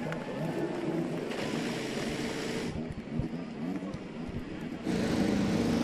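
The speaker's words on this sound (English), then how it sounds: "Drivers, start your engines." IndyCar engines fire up at the 2018 Grand Prix of Portland, a broad roar from many race cars rising and surging in waves, distant and washed by wind, with a crowd and announcer underneath.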